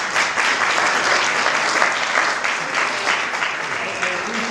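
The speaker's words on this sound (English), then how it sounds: "I appreciate the applause" Audience applause at a community arts center anniversary celebration in Tamaqua, a loud, dense wash of clapping from a crowd, steady and continuous throughout.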